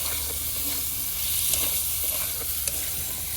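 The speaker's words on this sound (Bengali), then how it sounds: "এখানে একটু আদা কুচি আর লঙ্কা কুচি রেখেছি এটাও দিয়ে দেব সব মিশিয়ে সুন্দর করে ভেজে নেব" Chopped ginger, green chili and winter vegetables fry and get stirred in a pan for semolina upma, giving a steady, close sizzle with a faint scrape of the spatula running throughout.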